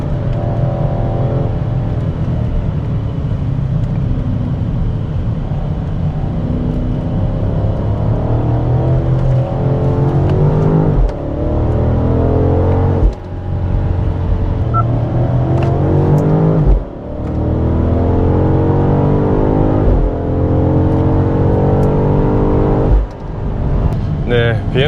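A BMW X5 M60i is driven hard around a driving-centre track, its engine droning and rising through repeated accelerations with brief dips at gear changes, heard from inside the cabin under steady talking.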